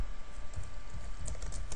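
Someone types a website address on a computer keyboard, a brief run of light, close key clicks in quick uneven bursts over a faint background hiss.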